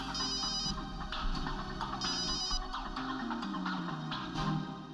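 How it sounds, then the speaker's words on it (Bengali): A phone rings with a repeating electronic melody, moderately quiet, in short bursts separated by brief gaps. "বম্বারের ফোন, কিন্তু ও আমাকে ফোন করবে কেন?"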